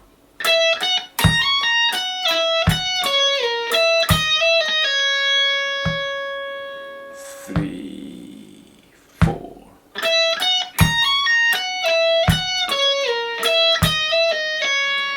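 An electric guitar plays a quick run of picked notes from a song, pauses on a held bend with a noisy scrape, then resumes the fast lick. Tone is bright and slightly driven.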